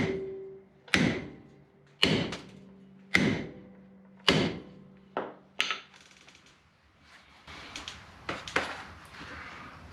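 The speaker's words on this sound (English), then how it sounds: "Time for a heavier hammer." Heavy blows from a 3-pound hammer strike a 1986 Ford Ranger brake drum at a slow, even pace, about six sharp ringing impacts, then a looser cluster of clanks and taps.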